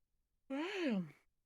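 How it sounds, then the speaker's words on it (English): A single close, quiet yawn from a man, rising and then falling in pitch for under a second, heard alone with no other sound. "Sorry for the yawn."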